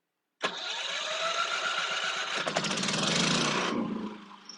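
A Firman 3,000-watt inverter generator fuelled by propane starts up indoors with an abrupt crank, then settles into a steady, fairly quiet engine drone that shifts pitch as it adjusts speed, heard close with no talking.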